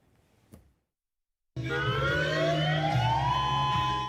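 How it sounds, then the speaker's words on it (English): After a faint click and a moment of silence, a Hawaii statewide outdoor warning siren starts up loud during a test, its wailing tone rising steadily in pitch and holding. "First working day of the month, we conduct a statewide outdoor warning siren test."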